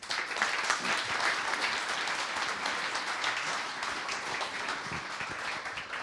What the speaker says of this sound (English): let's do a round of applause here